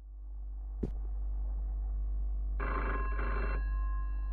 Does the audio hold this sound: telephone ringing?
yes